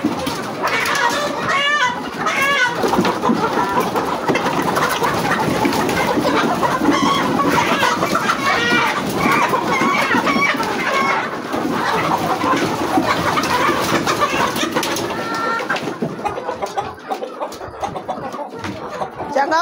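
Chickens and a rooster cluck and call continuously at close range, a busy layered flock chorus with a voice talking over part of it.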